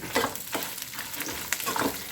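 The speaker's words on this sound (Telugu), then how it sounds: "ఇది గోల్డెన్ కలర్ వచ్చే వరకు వేపుకోవాలి" Peanuts and cashews fry in oil until golden for a jackfruit mustard curry, giving a quiet, irregular sizzle with short crackling bursts and no voices.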